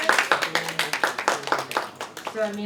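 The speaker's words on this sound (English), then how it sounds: "a round of applause again for the" An audience at a post-screening talk for a documentary on migrant workers gives a short round of close, crisp hand-clapping that fades as a speaker begins talking.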